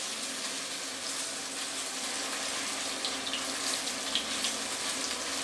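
Beef for lo mein sizzles in a hot pan, a steady crackling hiss held at an even, moderate level throughout with faint spitting pops and no talking.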